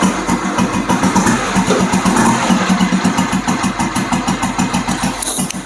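A restored 1992 Royal Enfield Bullet motorcycle engine fires up and settles into a loud, close, steady thumping idle with a deep, evenly paced beat.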